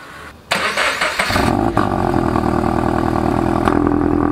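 A car with a valved exhaust fires up and settles into a loud, steady idle close by, the engine catching with a sharp burst before holding a deep, even drone.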